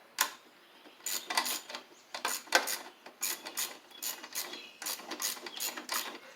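A ratchet loosens a bolt on the starter of a Briggs and Stratton V-twin engine, giving close, crisp bursts of rapid clicking in repeated strokes with brief pauses between them.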